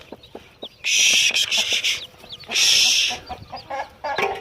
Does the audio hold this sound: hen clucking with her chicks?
yes